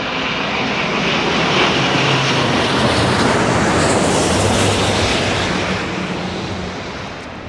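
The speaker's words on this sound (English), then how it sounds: "Beautiful, beautiful A350, here we go." An Asiana Airbus A350 jet passes close overhead on landing with a loud, broad, continuous engine roar that swells and then slowly fades.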